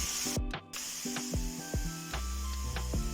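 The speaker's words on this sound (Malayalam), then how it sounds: "കുറച്ച് നമുക്ക് വെള്ളം ഒന്ന് സ്പ്രേ ചെയ്ത് കൊടുത്താൽ മതി കേട്ടോ, അല്ലാതെ ഒഴിക്കണ്ട" Water misted from a spray bottle over bitter gourd thoran in a pan, giving short hissing bursts among scraping and clinking of utensils, close and fairly loud.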